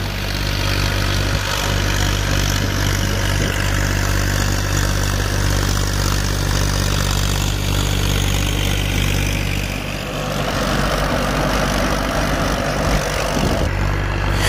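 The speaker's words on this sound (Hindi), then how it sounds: "वो ट्रैक्टर आप देखिए कितना स्मूथ चल रहा है, बिल्कुल लोड फ्री चलने वाला ये रोटावेटर है।" A 35 HP tractor running a rotavator in a farm field, a loud, steady engine drone with a low rumble from the tilling blades, continuous and close, with a slight dip near the end.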